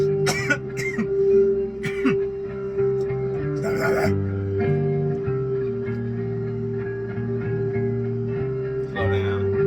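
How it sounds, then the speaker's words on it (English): A person coughs and clears their throat several times in short bursts over a steady electronic hum, then a final cough near the end. "stop coughing already"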